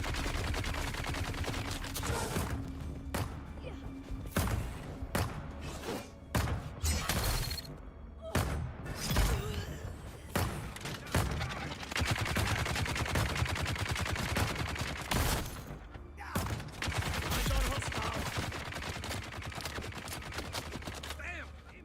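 Rapid SMG gunfire in the Dune: Awakening video game, sustained bursts with brief pauses, loud and close, over a dense battle mix with no clear talk.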